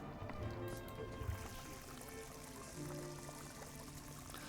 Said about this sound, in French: Ok, on va rincer le seau.